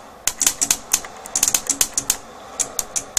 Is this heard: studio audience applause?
no